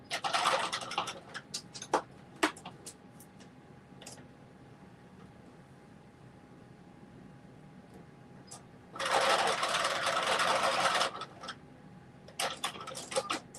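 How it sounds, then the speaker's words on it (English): A sewing machine runs reinforcement stitches through fabric and lining for a Simplicity headband and mittens, with a sustained loud burst of motor whir and needle clatter in the middle, framed by brief ticks and quiet gaps. "we're doing these reinforcement stitches"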